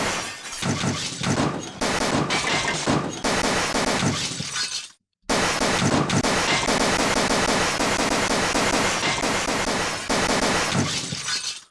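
Dense, continuous rapid machine gun fire in the game Desktop Destroyer, mixed with shattering and breaking glass, loud and chaotic, with a brief cutoff partway through before it resumes.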